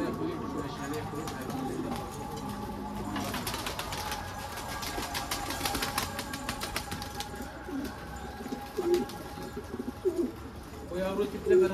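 Tippler pigeons in a garden loft coo softly and steadily, with occasional wing flutters, while people talk in the background.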